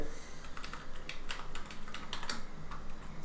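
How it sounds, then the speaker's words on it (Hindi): Fingers type steadily on a computer keyboard while text is entered into a Photoshop YouTube banner design. The keystrokes are close, rapid and irregular, clicking continuously over a low background hum. "ये लें जी, ये भी मैंने टाइपिंग कर दी है।"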